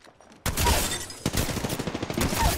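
Dense, continuous gunfire in the Apex Legends battle royale game, with rapid automatic bursts starting abruptly and continuing loud throughout.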